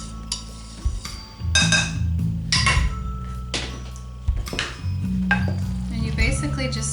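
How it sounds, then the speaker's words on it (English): Homemade mac and cheese sauce stirred through noodles in a pan: wet, squelching swishes and scrapes in uneven strokes, with occasional clinks of a utensil against the pan, close and fairly loud. "And you basically just stir it around."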